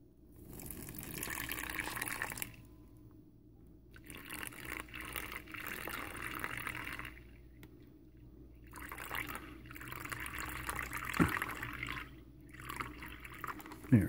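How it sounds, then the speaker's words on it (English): Water poured from a cup into a U.S. military MRE ration bag for the chili with beans meal, three bursts of splashing and trickling separated by quiet pauses, close and moderately loud. "now we'll go ahead and put our water in"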